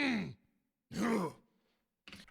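A gritty vocal for a Space Marine 2 Custodes character, made with false chord distortion, comes as two rough, sighing groans that bend in pitch, then a short harsh burst, close and alone with silent gaps.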